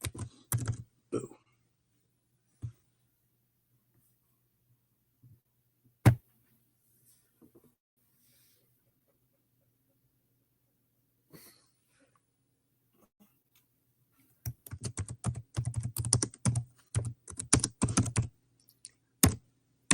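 Computer keyboard typing comes in short bursts, sparse at first and then a dense rapid run of keystrokes near the end, close and moderately loud in a quiet room with a few isolated clicks.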